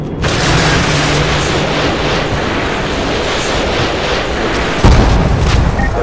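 Sustained heavy gunfire and explosive booms from a Modern Warfare 2 battle, dense and continuous across the whole stretch with a sharper, louder burst near the end.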